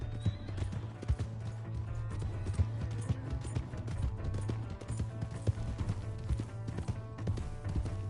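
Horse hooves clip-clop in a steady trotting rhythm in the video game Red Dead Redemption 2, close and clear over a low engine-like hum and game ambience.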